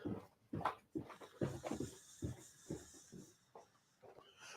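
A puppy whimpers in a series of short, high whines and yelps, moderately close, scattered through a quiet indoor room with no talking.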